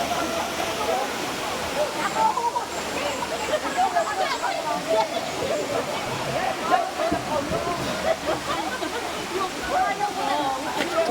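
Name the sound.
waterfall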